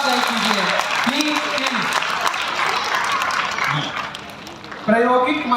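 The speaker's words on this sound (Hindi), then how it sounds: "प्लीज तालियां बजाइए बच्चों के लिए," Audience applause for school teams at an environment quiz competition on an open ground in Arrah, Bihar, with continuous clapping under someone speaking over a loudspeaker, the clapping swelling again near the end.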